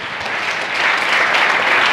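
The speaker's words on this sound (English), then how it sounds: "Big round of applause." A keynote audience at Lenovo Transform in New York City, 2017, breaks into a broad, continuous wash of applause that swells slightly and holds loud and steady throughout.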